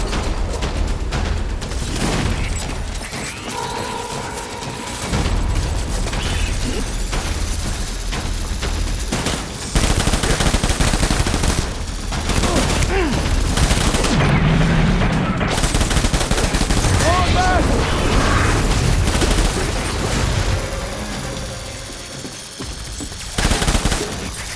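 Sustained gunfire in the video game Death Stranding, with dense bursts of rapid shots and heavy booms that continue almost without pause, close and loud throughout, with occasional shouted voices.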